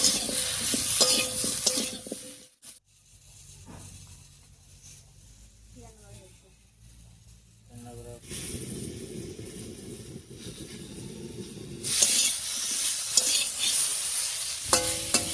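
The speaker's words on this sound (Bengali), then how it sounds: "এই অবস্থায় আলু আর পটলটা একটু ভাজা ভাজা মতো করে নেব।" Potato and pointed gourd frying in oil and being stirred in a pan, a loud sizzle that drops away in the middle before the crackling returns, with scraping stirs and a voice talking over it.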